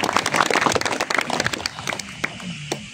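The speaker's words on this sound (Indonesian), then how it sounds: "Tepuk tangan untuk Pak Kiai Umar." Audience applause at a school scouting event, brisk individual claps close by, loud at first and then thinning to scattered claps after about two seconds.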